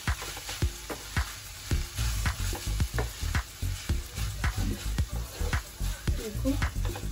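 Schezwan paneer hakka noodles tossed and stirred in a hot pan, steady sizzling frying broken by a regular series of sharp scraping and clanking strokes, close and moderately loud, with speech over it.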